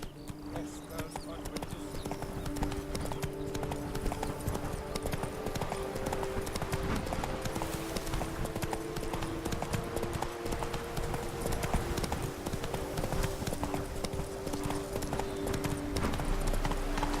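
Roach, the horse in The Witcher 3: Wild Hunt – Blood and Wine, trots with a steady, continuous clip-clop of hooves over the whole stretch, while a voice talks over it.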